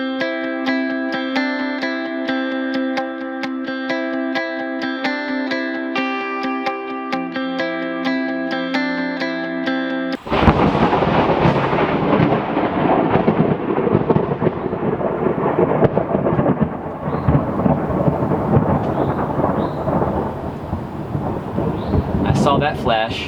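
Thunder crashes in over rain during a storm, a sudden loud rumble that breaks in after a stretch of steady tonal music and then rolls on, rough and thick, for the rest of the stretch.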